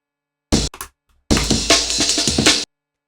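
A classic amen break drum loop: a quick fill, a short pause, then a brisk run of punchy kicks, snares and cymbals that cuts off abruptly.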